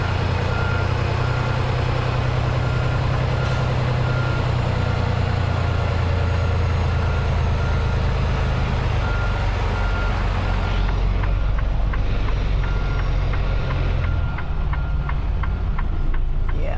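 A semi truck idles with a deep, steady rumble as it reverses a trailer into a spot beside a Schneider trailer, and a regular series of backup beeps sounds clearly in the second half.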